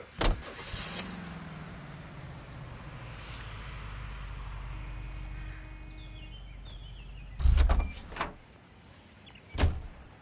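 Inside a police car in the video game L.A. Noire, an engine idles and hums steadily at moderate volume, punctuated by a few sharp thuds like doors closing, with no talk.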